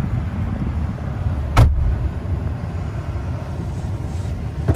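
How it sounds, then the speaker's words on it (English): A 2014 Dodge Ram 1500 pickup on a short test drive gives a steady low road and engine rumble throughout, with one brief thump near the start and no talking. "Let's take you on a short test drive"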